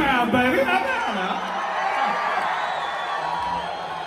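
A concert crowd at a farewell show at Hard Rock Live in Hollywood cheers and whoops in a sustained, fairly loud roar, with someone speaking over it at the start.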